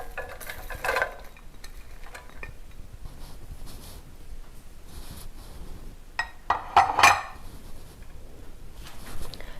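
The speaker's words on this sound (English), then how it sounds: "now we will cook it with the vegetables" Chicken and shredded cabbage cooking in a pan over a medium-high flame, a low continuous sizzle broken by a few sharp utensil clatters and stirring scrapes.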